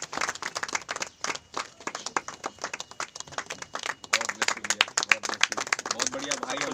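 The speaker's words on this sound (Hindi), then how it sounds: "तो आप सब तालियों से स्वागत करें भाई का।" A church congregation claps to welcome a member at a New Year special meeting, scattered uneven hand claps building in density, heard close with voices talking over them.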